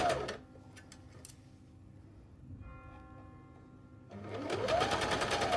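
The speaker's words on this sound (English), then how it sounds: "And now I start to gather, to sew over the gather." A sewing machine stitches a gathered blouse sleeve in two close, loud bursts of rapid mechanical whirring, separated by a quieter pause with faint ticking.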